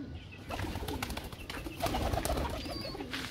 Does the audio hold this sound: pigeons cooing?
yes